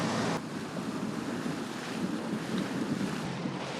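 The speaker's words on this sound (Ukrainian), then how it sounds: "Катер принял, выдвигаемся." A rescue patrol motorboat sets off on the sea: a steady, loud rush of engine, water and wind noise roaring throughout without pause or speech.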